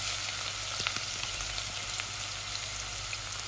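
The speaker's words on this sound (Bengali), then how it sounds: "পেঁয়াজটা আগে লাল হয়ে যাক, তারপরে আমি বাকি গরম মশলাগুলো দিয়ে দেব।" Onions fry in oil for egg bhuna, giving a constant close sizzle with small scattered pops and light stirring ticks throughout.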